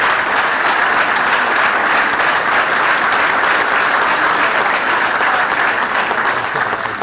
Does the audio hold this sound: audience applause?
yes